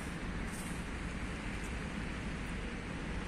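Steady, soft rain patters continuously on surfaces, a faint even hiss with no voices.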